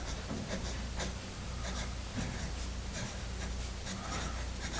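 Musgrave Single Barrel 106 pencil scratching across paper in a steady run of short strokes, close and fairly loud over a low background hum, with no voices.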